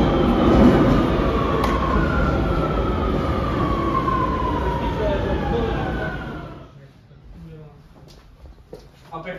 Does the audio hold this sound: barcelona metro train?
yes